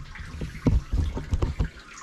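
Water squirts and splashes in uneven bursts out the sides of a homebrew mash tun during sparging, several close, choppy gushes over a low watery background.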